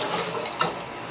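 A small splash of water poured into a pan of buttered cheesy mussels (tahong) during cooking, a short steady pour over kitchen noise with one brief bright splash in the middle.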